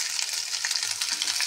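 Battered vegetable pakoras fry in hot oil with a dense, steady crackling sizzle, close and loud throughout, no voices.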